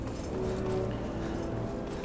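Horse hooves in the Skyrim video game make a steady clip-clop under a dense, constant layer of game ambience and music, loud and continuous with no break.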